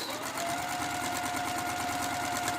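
A sewing machine stitching fabric for a valance, a fast, steady mechanical whir with rapid rhythmic needle clatter, close and continuous for the full moment.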